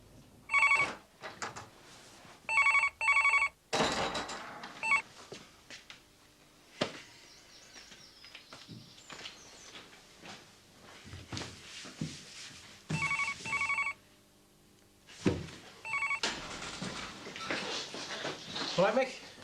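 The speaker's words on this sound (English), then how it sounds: "That phone's been driving me mad all day." A telephone bell rings in repeated bursts of two, loud and close, several times over, while people talk between and after the rings in a domestic indoor setting.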